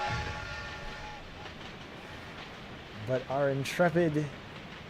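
A train running in the Western video game Outlaws gives a steady, rumbling rail noise throughout, with someone talking over it.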